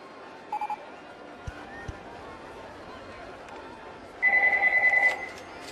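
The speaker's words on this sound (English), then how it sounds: "Goddamn phone." A telephone rings indoors during a Roller Coaster Tycoon game session, two short bursts of ringing, one brief early and a louder sustained trill near the end, with faint background noise between.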